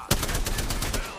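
Gunfire in the battle royale game Apex Legends: a sharp opening shot, then a rapid, evenly spaced automatic burst of about ten loud, close cracks.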